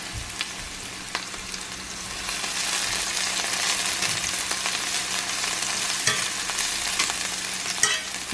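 Chicken browns in a frying pan with a loud, steady sizzle that swells after a couple of seconds, joined by occasional scraping stirs and small knocks, close up with no voices.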